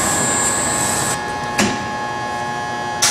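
A QPAC micropolishing system polishes a thrust face, producing a steady electric whirring hum that cuts off partway, with brief clicks and a short mechanical burst as the machine stops and restarts.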